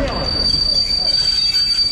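A commuter electric train pulls into a station at Pavlovsky Posad, its wheels squealing in a sustained high-pitched whine over a loud, close rumble of carriages.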